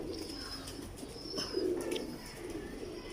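Pigeons coo softly and repeatedly in a loft, low throaty calls at moderate distance over a steady background, with a few brief chirps mixed in.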